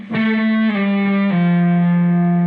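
Distorted electric guitar plays part 5 slowly, three long sustained notes with a slide and pull-off, each ringing out loud and steady.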